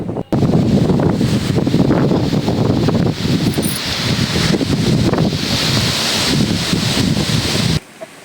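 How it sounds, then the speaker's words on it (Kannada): Strong wind buffets a hilltop dam, a loud, steady roar of gusts hammering the microphone almost without pause for several seconds before cutting off abruptly near the end. "ಇಲ್ಲಿ ಗಾಳಿ ಎಷ್ಟು ಜೋರು ಬಿಸಾಕತ್ತೈತೆ ಅಂತ ಹೇಳಿ ನಿಮಗೆ ಗಾಳಿ ಶಬ್ದದ ಮೂಲಕನ ಕೇಳಿಸ್ತೀನಿ ನೋಡ್ರಿ"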